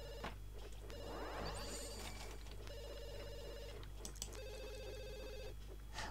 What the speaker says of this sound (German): Das Telefon interessiert mich gerade nicht.